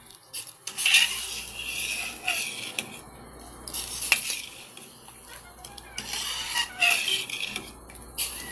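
A spoon scrapes and clinks around a pot of sweetened saba bananas in repeated stirring strokes, with faint bubbling beneath and a voice talking intermittently.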